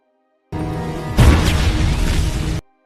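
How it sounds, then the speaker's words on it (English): A sudden loud grenade blast erupts and rumbles on for about a second and a half before cutting off abruptly. "throw it outside the window so he can hear the explosion"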